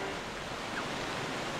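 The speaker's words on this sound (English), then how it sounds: "I thought the sound of the waterfall would drown it out." A waterfall in The Legend of Zelda: The Wind Waker HD rushes as a steady, even wash of white noise, moderately quiet, with no voices over it.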